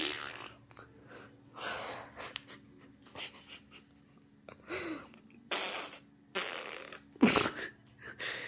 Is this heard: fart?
yes